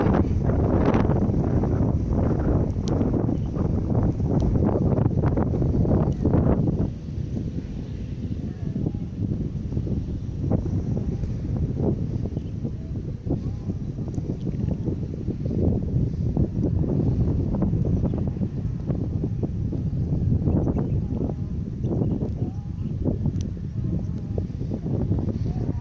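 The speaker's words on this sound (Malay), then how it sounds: "Ini angin sangat kencang." Very strong wind buffets an outdoor microphone at an old Aceh royal-era burial ground near water, a loud continuous low roar with gusty surges throughout, while someone talks at intervals.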